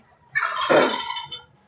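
A turkey gobbles once, a loud rapid warbling burst lasting about a second, close by and on its own.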